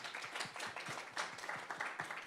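A small crowd at a zine festival talk in Auckland claps for the presenters, a quiet room-sized patter of individual hand claps rather than a roaring ovation.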